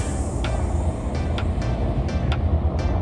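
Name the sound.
airplane flying overhead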